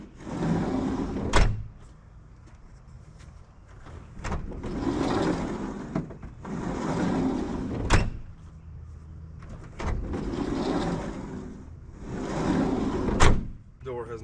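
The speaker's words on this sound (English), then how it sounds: "Door has not shut decent in so long that is just, oh, so good." The repaired sliding door of a Sprinter van is rolled along its track and shut several times, each smooth rolling rush ending in a sharp bang, close by with a voice between cycles.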